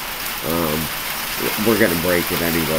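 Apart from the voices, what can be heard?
rain falling during outdoor recording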